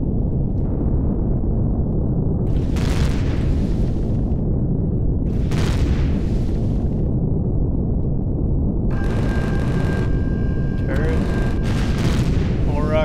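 Weapons firing from a small spacecraft in Empyrion, including a rail gun and a minigun: a few heavy booming shots over a constant loud engine rumble, then a rapid crackling burst near the end.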